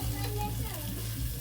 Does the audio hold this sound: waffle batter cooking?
yes